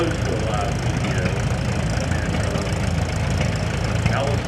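An antique Allis-Chalmers four-cylinder tractor engine runs steadily at an outdoor tractor parade, a constant mid-pitched chug with faint knocking, heard near and continuous beneath background crowd noise.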